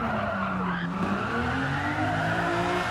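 A Ferrari 250 GTO in Gran Turismo 7 squeals its tires through a corner, with a sustained, wavering screech over a steady engine drone that stays loud and close the whole time.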